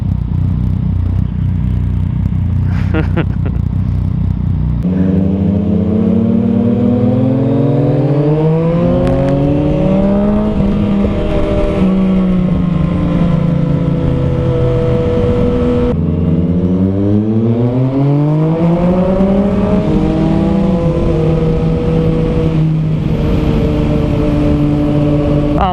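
Two Yamaha FZ-09/MT-09 motorcycles with Arrow and Akrapovic exhausts rev loudly up close at a bike night party, engines rising and falling in long repeated throttle sweeps over a constant idle rumble.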